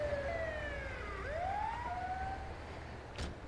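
A wailing emergency vehicle siren in the video game GTA V FiveM, with rising and falling tones sounding clearly over a low engine rumble, followed by a brief burst of noise near the end.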